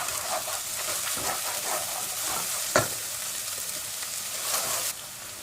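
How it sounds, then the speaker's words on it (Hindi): Ginger, garlic and green chili sauté in a pan with a steady close sizzle, overlaid by scraping stirs from a spatula and one sharp knock against the pan. "अब इसको थोड़ा सा सोटे करेंगे।"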